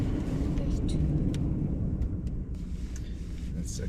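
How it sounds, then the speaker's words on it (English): A gravel truck drives past outdoors, a loud, steady low rumble of engine and tires that fills the whole clip, with people talking over it. "That's a gravel truck."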